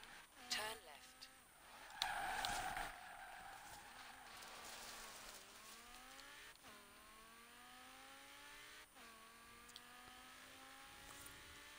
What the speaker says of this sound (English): do Lamborghinis sound different in this game than it did in the last game?